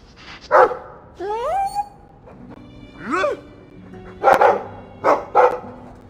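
A dog in the Dragon Age II video game gives a few short barks and yips with whimpering, rising whines between them, fairly close and clear over a quiet game background.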